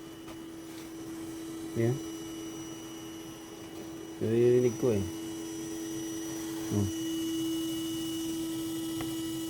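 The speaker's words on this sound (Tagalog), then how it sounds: "Umaandar yung fan nya." A Nissan Murano's 3.5L V6 engine cooling fan hums steadily without a break, while a person speaks in a few short bursts over it.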